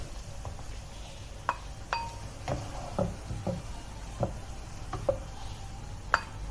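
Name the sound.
stirring bottle gourd halwa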